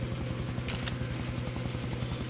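A helicopter in the video game Far Cry 3 gives off a loud, continuous, rhythmic rotor thumping with a steady engine drone, alone without talk.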